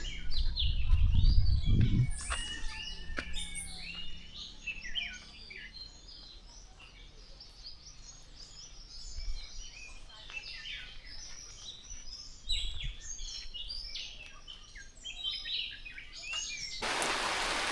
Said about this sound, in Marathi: पावसाचं वातावरण असलं तरी पक्षी बघा किती ओरडत आहेत